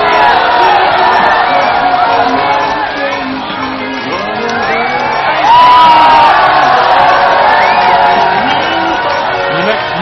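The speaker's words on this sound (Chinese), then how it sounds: "你们喊叫声太大" Studio audience on a Chinese TV game show shouting and cheering loudly and continuously, a dense crowd roar that swells briefly mid-way, with voices calling out over it.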